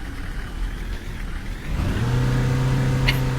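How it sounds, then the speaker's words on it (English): A bus engine in the Fernbus simulator game revs up, a mid-pitched whirring hum that starts low and rises into a sustained, strained drone midway through, with no speech. "But the engine makes it sound like I am flooring it"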